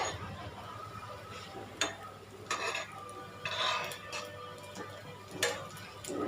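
Bread pocket evening snacks fry in a pan and get flipped side to side, with scattered clinks and scrapes of a utensil over a low sizzle while a person talks throughout.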